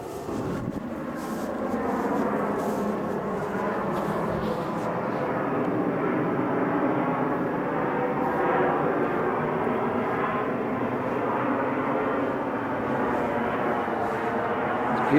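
Steady broadband roar of a plane passing overhead on approach, sustained and fairly loud throughout, heard outdoors beside an old abbey ruin and windmill.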